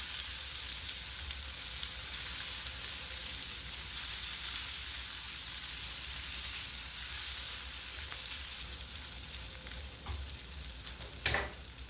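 Corned beef sizzles and crackles steadily in a frying pan for a Filipino breakfast dish, with a utensil scraping and stirring through it, close and continuous with no talk.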